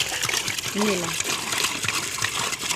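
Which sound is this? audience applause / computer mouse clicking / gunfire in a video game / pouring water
pouring water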